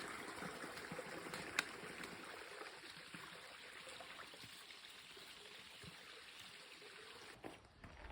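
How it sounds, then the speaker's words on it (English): Creek water flows steadily at a trail crossing on a hiking route, a continuous soft trickling and burbling heard from close by, fairly quiet and even throughout with no voices. "Our first creek crossing."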